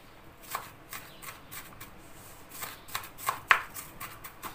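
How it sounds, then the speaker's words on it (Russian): A knife chops vegetables rapidly on a cutting board, a run of close, sharp taps in uneven rhythm with short breaks. "И у вас будет мелко порезано."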